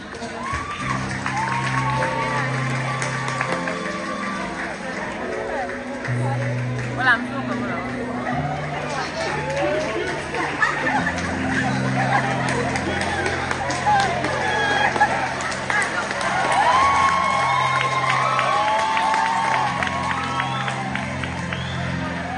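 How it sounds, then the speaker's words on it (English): Graduation audience applauding and cheering for a valedictory speaker, a steady dense wash of clapping and crowd chatter throughout, with voices and cheers rising over the hubbub. "Can we please give the applause?"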